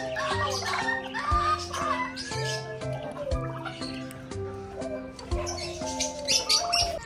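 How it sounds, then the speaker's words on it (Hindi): Birds in a mini zoo call steadily from their cages in cold weather as a pigeon cage door is opened, with a busy, overlapping chorus of coos and chirps close by throughout. "ये कबूतर भी बाहर आने की कोशिश कर रहे हैं, तो इनका दरवाजा भी खोल लेता हूं मैं।"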